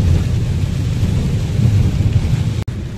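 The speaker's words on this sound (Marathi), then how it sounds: "तुफान पावसाला सुरुवात झाली बरं का" A loud, steady low rumble of a heavy storm with rain, deep and continuous, briefly cutting out near the end.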